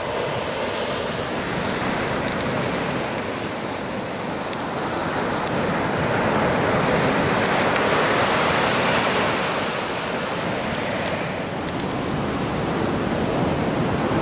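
Ocean surf rolls onto an empty beach on the North Coast of California in a continuous broad roar that swells and eases gently, with some wind buffeting and no voices.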